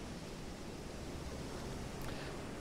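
Ocean waves in the submarine game Silent Hunter III, a continuous broadband wash of surf and wind at low, steady level, with no voices.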